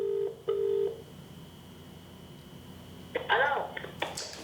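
A phone number is dialed as two short beeping tone bursts near the start, then a brief ringing or voice-like sound follows after a quiet gap.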